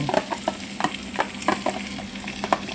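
Butter melting and sizzling in olive oil in a pan while cooking beef caldereta, with a steady soft frying hiss and brief stirring clinks of a utensil, close and alone.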